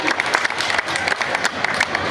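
A large crowd at a political rally in Muzaffarpur, Bihar, applauding with a steady wash of clapping, a voice faintly mixed in beneath it.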